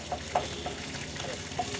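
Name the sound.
ginger garlic paste frying with browned onions, stirred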